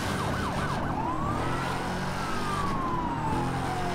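Police car siren in the racing game Need for Speed Hot Pursuit, a continuous loud wail sweeping up and down over steady engine and road noise, with a brief rapid yelp burst near the start.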